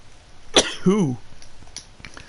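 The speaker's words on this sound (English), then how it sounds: "Sorry about my sneezing." A single sharp sneeze bursts out, followed right after by a short voiced exclamation, then quiet room tone.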